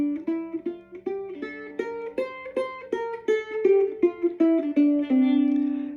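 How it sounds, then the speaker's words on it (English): A C Mixolydian scale played note by note on a plucked-sounding instrument in a Celtic-music context, about a dozen evenly spaced notes climbing steadily and ending on a held tone, clear and close with no voices. "it actually is going to be a C Mixodonolean. It sounds like this."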